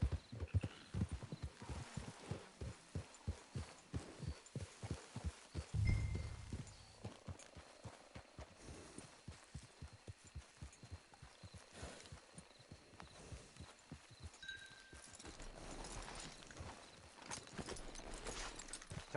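Horse hooves clip-clop in Red Dead Redemption, a steady close rhythm of hoofbeats that slows and thins out toward the end, with a faint whinny and quiet ambient game sounds.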